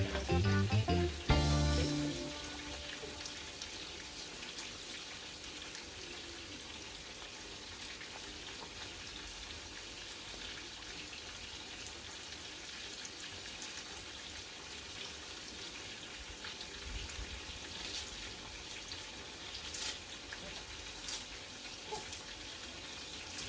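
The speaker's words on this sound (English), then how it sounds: "so me get back some fresh water now. Wash off me scallion and thyme." Tap water runs steadily into a sink while fresh scallion and thyme are washed for a Jamaican brown stew barracuda, a constant soft rushing stream after a brief louder clatter at the start.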